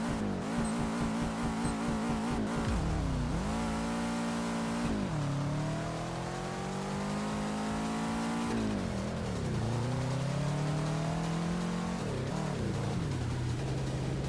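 A car engine in the VR racing game Touge Shakai drones loudly and continuously, revving up through rising pitch sweeps with drops at gear shifts, close and alone with no talk.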